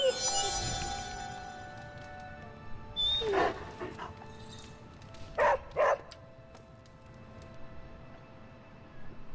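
Charlie, a dog in the video game Midnight Suns, lets out a couple of short yelping barks around the middle, sitting over game music and ambience.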